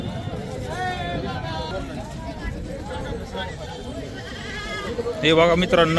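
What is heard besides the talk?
goats bleating at a goat market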